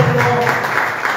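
Brief burst of congregation clapping at a church gathering, a short, fairly loud patch of many hands with a lingering tone from the start.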